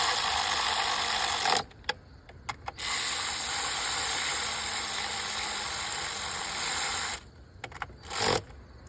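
Ratchet wrench tightening the ignition coil bolts on a Kia Sorento engine, rapid close clicking in long runs broken by short pauses and a final brief burst.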